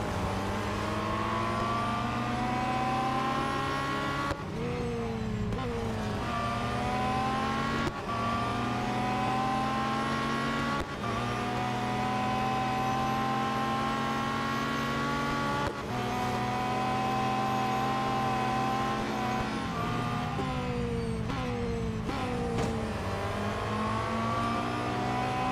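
A race car engine in Real Racing 3 revs continuously for the whole stretch, loud and close, climbing through the gears with brief dips at each shift, alone with no talk.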